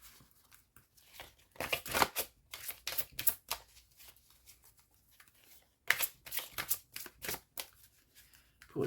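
Tarot cards shuffled in repeated bursts of riffling and flicking, then a card drawn, close and crisp with brief quiet gaps between bursts.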